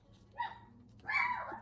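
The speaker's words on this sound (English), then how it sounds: "here goes my dog now" A dog barks indoors, two short yelping barks with the second longer and louder, somewhat distant and heard alone.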